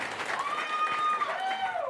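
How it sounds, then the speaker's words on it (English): Audience applause for a Marine at a stand-up comedy show, a crowd clapping steadily across the whole short stretch, with chatter mixed in beneath it. "Y'all clap it up for that."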